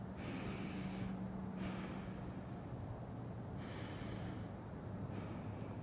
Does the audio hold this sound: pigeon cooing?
no